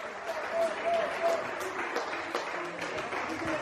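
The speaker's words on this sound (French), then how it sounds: "on les applaudit encore une fois" Crowd applause for the podium riders at a mountain bike race in Isola 2000, steady clapping that holds throughout, moderately loud and dense, with faint voices mixed in.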